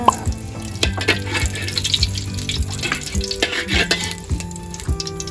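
Chopped red chili and garlic stir-fry in hot oil for a Thai spicy seafood dish, a steady sizzle punctuated by sharp, repeated clanks of a spatula against the pan.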